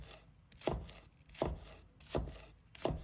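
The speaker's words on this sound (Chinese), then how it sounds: "一段大葱，切成段" A knife chops a length of green onion into pieces on a cutting board, four spaced, crisp thuds in a slow, even rhythm, close and fairly quiet.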